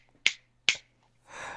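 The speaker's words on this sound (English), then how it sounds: "snap your fingers when you're correcting me" Two crisp finger snaps ring out about half a second apart, close and clear, followed by a soft breathy exhale.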